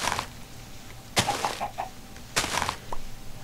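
Chickens clucking in Minecraft, with a few short sharp clucks and a quick run of soft clucks in between, fairly close and clear, with no talking.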